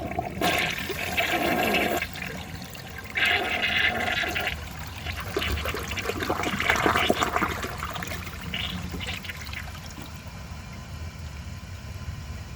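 A 1990 Peerless concealed jet toilet flushes a washcloth with a loud, close rush of water. The rush surges in several bursts, then fades into a quieter trickle as the bowl refills.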